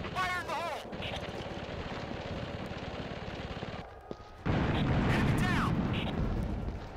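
Gunfire and a loud blast in Ghost Recon 2 boom under excited talk, with a sharp crack midway and then a louder, sustained burst of explosions and rumble.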